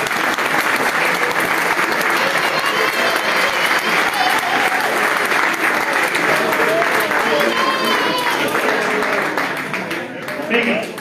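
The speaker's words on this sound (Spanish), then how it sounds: "Ahora, un fuerte aplauso a Mateo." Sustained applause from the audience at a homebrew beer competition awards ceremony, loud and steady throughout before tapering slightly near the end, with faint voices mixed into the crowd.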